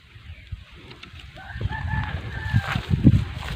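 A rooster crows once nearby, a drawn-out call over low rustling and shuffling noises.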